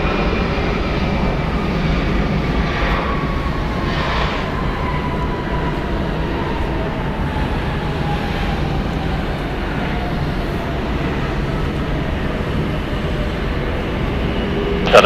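A 30-year-old Delta Airlines Boeing 757-200 departs Hartsfield-Jackson International Airport in Atlanta, its engines a steady loud roar held throughout, with a faint falling whine slowly gliding downward over the rumble.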